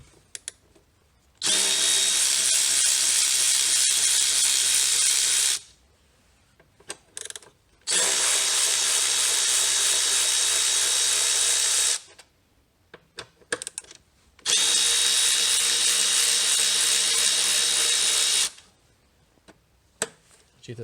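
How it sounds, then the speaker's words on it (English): A power tool spins out the 8mm throttle body bolts on a 2012 Ford Focus, running in three sustained bursts of several seconds each, with quieter handling noises between them. "now we're going to remove the 4 bolts, the 4 8mm bolts to the throttle body"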